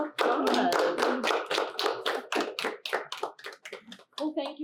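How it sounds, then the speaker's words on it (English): A small audience applauds after a talk on electrosynthesis and clean fuels, with distinct individual claps close by that thin out and taper toward the end. "can we give another round of applause?"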